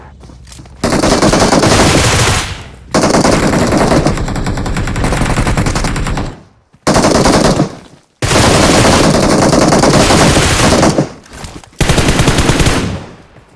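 Loud, close automatic gunfire in a video game battle comes in long sustained bursts with short gaps between them, nearly continuous over the whole stretch.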